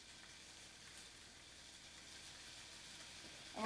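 Hamburger patties for Salisbury steak fry in a pan, a faint, steady sizzle that grows slightly louder before a sharp clatter at the very end, with no speech.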